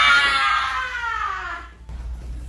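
A woman screams loudly and continuously for about two seconds, a high strained cry that slides downward before cutting off, followed by low background noise.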